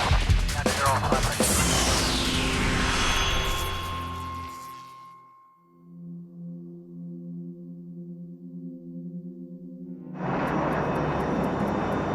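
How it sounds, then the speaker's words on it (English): A loud roaring rush of jet engine and wind noise from a climbing aircraft fades out, leaving a steady low hum of tones, then a broad engine roar swells back in. "Execuflight 1526 is climbing towards cruising altitude over the U.S. Midwest."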